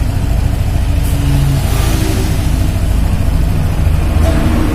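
Honda Scoopy scooter engine running close by, a steady mid-pitched idle hum with slight rises as the throttle is blipped, loud and continuous with no voices over it.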